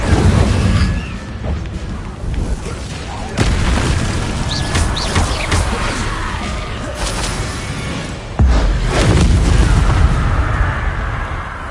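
Incendio fire spell cast repeatedly in a Hogwarts game, loud whooshing bursts and booming impacts landing at a few seconds' spacing, with a voice heard between blasts.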